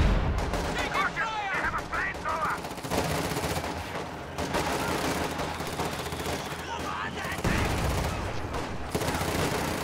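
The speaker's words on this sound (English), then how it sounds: "Su-76 is firing on the Jagdpanzer. One shot does penetrate." Battle noise from a World War II strategy game, with bursts of small-arms gunfire and heavy cannon shots as an Su-76 fires on a Jagdpanzer, dense and continuous under a caster's commentary.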